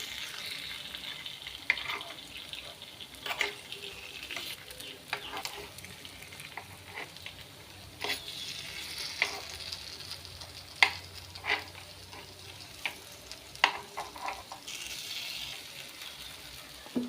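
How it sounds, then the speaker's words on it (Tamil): Aval (poha) kuzhi paniyaram fry in ghee over a medium flame, giving a continuous soft sizzle with scattered light pops and scrapes of stirring, fairly quiet and steady throughout. "மீடியம் ஃப்ளேமில் வச்சு ஒரு நிமிஷம் பொறிச்சு எடுத்துக்கலாம்"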